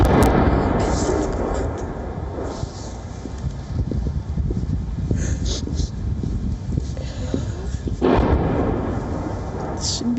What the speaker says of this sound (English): That was the sound of shelling.